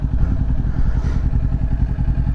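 A Kawasaki Ninja 400 motorcycle riding in strong wind of 20 mph or more gives a steady, loud low engine rumble mixed with buffeting wind noise, close up, with no speech.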